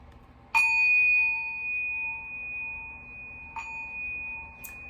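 A singing bowl is struck with a stick, giving a clear bright ding that rings on with a sustained, slowly fading tone, then a second softer strike and a small tap near the end, all in a quiet room.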